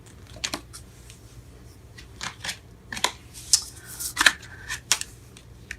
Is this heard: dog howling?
no